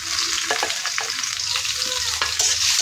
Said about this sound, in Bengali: পেঁয়াজটি বাজিয়ে নিতেছি আদাটাও দিয়ে নিতেছি